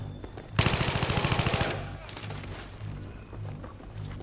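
A loud burst of rapid automatic fire in Battlefield 3 lasting about a second, followed by quieter scattered shots and game noise.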